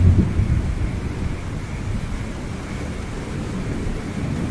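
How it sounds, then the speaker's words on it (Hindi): A heavy rainstorm pours down in a dense, steady roar while deep thunder rumbles loudly underneath, strongest at the start and then rolling on continuously. "आसमान में घने काले बादल छा जाते हैं और थोड़ी ही देर में जोरदार बारिश शुरू हो जाती है।"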